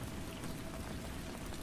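Steady rain falls in a soft, continuous hiss of dense drops, faint and even throughout with no voices.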